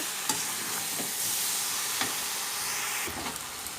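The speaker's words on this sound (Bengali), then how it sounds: "টক দইটা দিয়ে খুব ভালো করে মিশিয়ে নেব" Jackfruit and sour yogurt are stirred in a hot pan, a constant sizzling hiss broken by a few sharp scrapes of a spoon against the pan.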